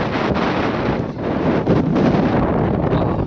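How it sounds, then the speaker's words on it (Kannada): Loud, steady wind buffeting the microphone at a hilltop sunrise viewpoint on Nandi Hills, a continuous broadband roar with gusts swelling and easing throughout. "ಎಂಟ್ರೆನ್ಸ್ ಗಾಳಿ ಇದೆ ಸಖತ್ತಾಗಿ"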